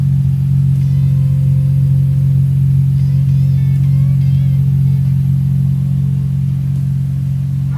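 A Nissan 300ZX with a swapped-in RB26 engine and a patched exhaust idles steadily and loud up close, a deep constant rumble throughout with faint higher tones above it.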